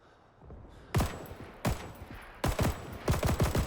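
A weapon in Rising Storm 2 firing on semi-automatic: loud, sharp single shots spaced unevenly, then a quicker cluster of several shots near the end, with faint background noise between.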